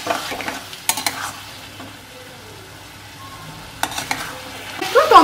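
Spice paste stirred and fried in a pan, with scraping spatula strokes in short bursts over a low sizzle, close and fairly loud.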